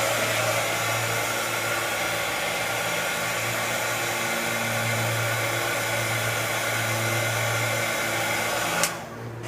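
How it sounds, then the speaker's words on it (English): Heat tool blowing hot air over glitter on altered clothespins, a loud, steady close whirring hum with a constant blower tone that stops near the end. "I'm going to hit it with my heat tool real quick"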